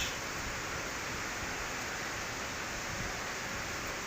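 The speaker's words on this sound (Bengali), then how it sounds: "অনব্রত বৃষ্টি পড়তেই আছে পড়তেই আছে" Steady, dense hiss of heavy, continuous late-season rain in Chittagong, Bangladesh, a constant broadband wash with no breaks and no voices.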